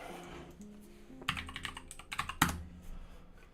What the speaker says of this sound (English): I'm just typing in Roblox in here